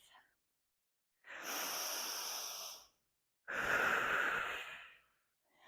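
Deep breathing during a yoga flow, two long audible breaths with a pause between, close to the microphone, each a soft airy rush lasting over a second.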